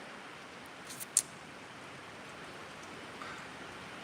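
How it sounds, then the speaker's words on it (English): Steady rain falling outdoors, a soft even hiss throughout with a couple of brief louder drips or taps near the start. "It's raining."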